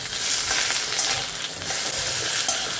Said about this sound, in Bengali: ডাল ভাজাটা